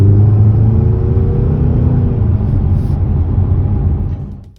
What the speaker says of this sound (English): The exhaust sound has been something of a contention point with this